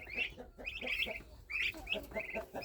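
Half-grown chicks clucking and peeping in a farmyard pen, a busy run of overlapping high chirps and short clucks from several birds close by, continuous and fairly loud, with no voices.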